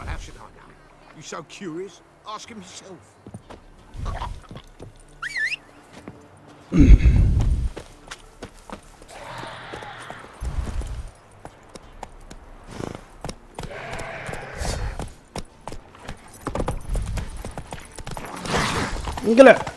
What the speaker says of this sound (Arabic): اصبر خلنا نادي الحصان.